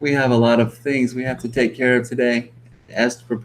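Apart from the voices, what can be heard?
No everyday noise stands out behind the speech.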